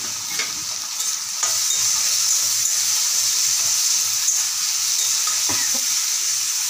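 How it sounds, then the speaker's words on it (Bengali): Prawns with onion and chilli fry in a pan with a loud, steady sizzle, and occasional scrapes of a spatula stir through the hissing oil. "হালকা করে ভেজে নেবো"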